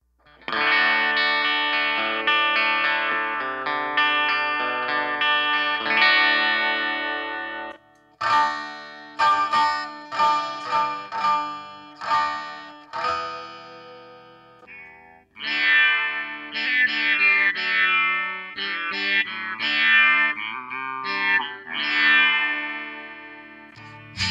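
A Line 6 Variax electric guitar plays chords and melodic phrases through a Line 6 HD500 multi-effects processor, with distortion, chorus-like shimmer and changing tones.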